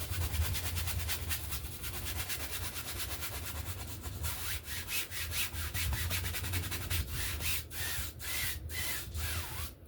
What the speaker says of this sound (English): Rub that color right back up on the dry spot on the canvas.